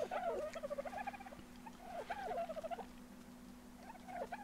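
Chickens in the survival game ARK give repeated bursts of clucking and chirping calls over a steady low electronic hum, at moderate loudness, with no talking.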